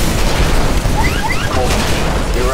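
A nuclear ejection blast from a Titan in the Xbox One game Titanfall, heard as a loud, continuous roaring boom with crackling debris and rumble that fills the whole stretch.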